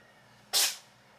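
A cat's single quick, sharp sneeze, small and breathy, bursts out once against an otherwise quiet background.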